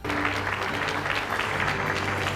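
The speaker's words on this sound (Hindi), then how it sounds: "इसी दौरान ओबामा को उपराष्ट्रपति कमला हैरिस ने मंच पर बुलाया, जहां तालियों से उनका जोरदार स्वागत हुआ।" Applause welcoming Barack Obama on stage at the White House during a celebration of the health-care bill's twelfth anniversary, a dense, steady wash of clapping from a large audience lasting throughout.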